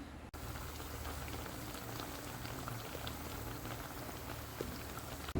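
Bread and potato pakoras deep-fry in oil, bubbling and crackling continuously, a quiet, even hiss with no one speaking.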